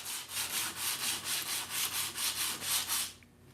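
A square metal model railroad weight is rubbed back and forth on sandpaper in about a dozen even, rhythmic strokes, close and raspy, before stopping abruptly.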